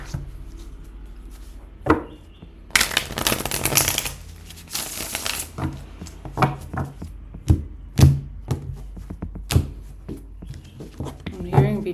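A deck of tarot-style cards is riffled and shuffled twice in quick loud bursts, followed by scattered taps and shuffles of the cards being squared and handled close by.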